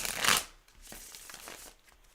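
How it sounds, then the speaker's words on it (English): A deck of cards riffled and shuffled by hand, one loud burst of flicking cards followed by softer, quicker shuffling sounds close to the listener. "I'm shuffling in front of you so you know I can't mess around with this"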